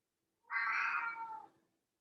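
A pet cat lets out a single clear, drawn-out meow of about a second, close by against near silence.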